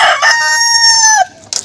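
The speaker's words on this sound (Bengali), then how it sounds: "একবার দেখিয়ে দিই মুরগিগুলোকে আপনারা। তো এই যে মুরগিগুলো" Desi hens give one loud, close, drawn-out call lasting over a second, then a brief quieter cluck after a short pause.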